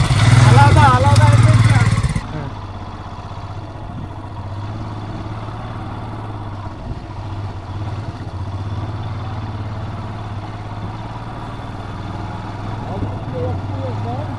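A motorcycle ridden on snow at Koksar near Sissu in the Himalayas, a loud burst of engine revving at the start, then a steady low engine drone with people talking over it.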